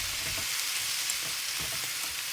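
Snap peas and other vegetables stir-fry in a hot pan for a spicy vegetarian yaki udon, making a steady, close hiss of frying oil with faint stirring bumps underneath and no voices.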